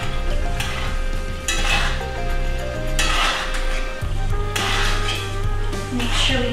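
Salmon fillets go into a skillet with a bourbon glaze sauce, a steady close sizzle with scraping clatter of pan and utensil throughout, and a lower hum beneath; no talking.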